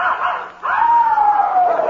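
A puppy in an old-time radio comedy from 1945 barks and yips loudly and close, a couple of sharp yelps followed by a long drawn-out whining howl.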